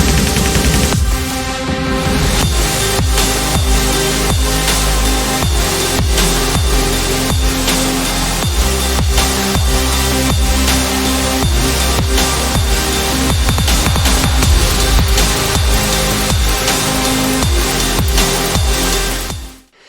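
Heavy melodic dubstep drop produced in Ableton, with all parts playing together: dense, loud and continuous full mix of pounding drums, thick bass and layered chords for about twenty seconds, cutting off at the end.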